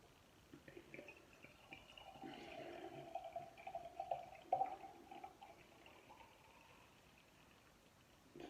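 Brewdog Overworks Hocus Focus, a black beer, pours from a bottle into a glass with a quiet, gurgling liquid stream that builds, peaks and tapers off.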